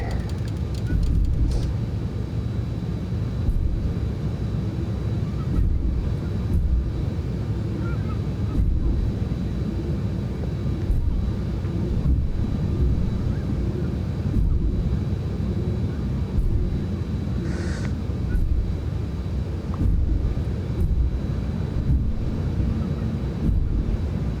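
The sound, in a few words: airliner with reverse thrusters on, from X-Plane 11 video game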